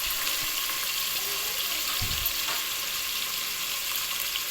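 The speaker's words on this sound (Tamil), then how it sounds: "இப்போ வெங்காயம் போட்டு நல்லா இந்த பொன்னிறமாக வர வரைக்கும் நல்லா ஃப்ரை பண்ணிக்கோங்க" Sliced onions fry in hot oil for a vegetable biryani, a steady close sizzle and hiss running throughout with a faint stir or scrape midway, no talking.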